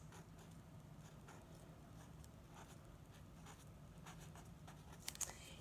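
A pencil scratches and scribbles across the page of a science notebook, faint and close, with soft irregular strokes and a couple of sharper taps near the end.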